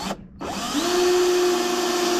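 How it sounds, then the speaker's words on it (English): After a brief pause, a power drill spins up and holds a steady, high whine close by, drilling holes in a sliding barn door track. "So drill some holes in it like that."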